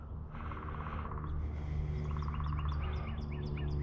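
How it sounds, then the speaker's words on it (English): Outdoor birds chirp in short repeated tweets over a low steady background hum, no talking heard. "Birds are chirping."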